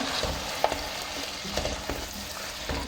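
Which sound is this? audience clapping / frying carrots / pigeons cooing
frying carrots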